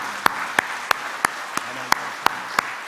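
A church congregation claps at a special dawn prayer service during Holy Week, with sharp, evenly spaced single claps about three per second standing out over a soft background murmur.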